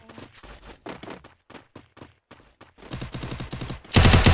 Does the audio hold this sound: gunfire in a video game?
yes